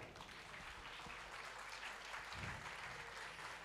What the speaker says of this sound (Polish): Jeszcze raz duże brawa.